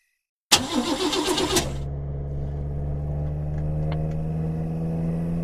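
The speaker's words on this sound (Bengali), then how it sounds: "বেশ জোর গতিতে গাড়ি চালিয়ে যাচ্ছি" Car on a village road: an engine catches with a rough, loud burst, then settles into a steady, droning hum that holds for several seconds, close and alone.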